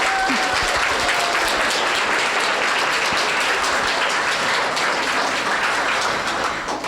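Sustained applause from an audience at an art awards ceremony fills the whole stretch, dense and steady clapping at full strength, fading only slightly at the end.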